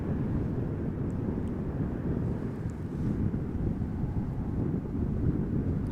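Crosswind buffeting a camera microphone at Amsterdam Schiphol Airport: loud, continuous low rumble and roar, steady and close, with no voices.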